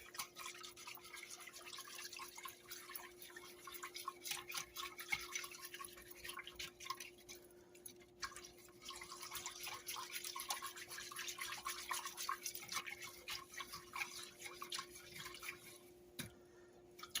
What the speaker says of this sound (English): Make sure you get it all in there. Whisk it all around.